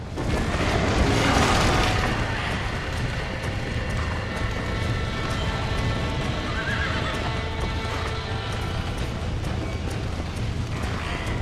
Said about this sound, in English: Back that dumb horse!